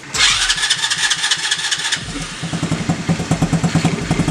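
A go-kart's small engine, just back from a carburetor repair, cranks briefly and then catches, settling into a loud, close, rapid putter that nearly idles.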